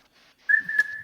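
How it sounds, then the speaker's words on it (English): A single person whistles a sharp, steady high note to call a slime, brief and close, after a faint soft lead-in and with a small dip in pitch partway through. "You make clapping and whistling noises at it."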